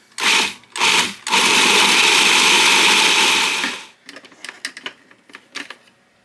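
Tofu ball mixture being mixed with flour, likely by a machine: two short loud whirring bursts, then a steady loud whirr lasting about three seconds, followed by softer scattered knocks and scrapes.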